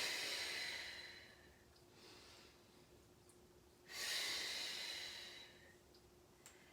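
Two strong breathy exhalations during a standing exercise routine, one early and a longer one midway, each a soft rushing breath over a steady low hum, with faint clicks near the end.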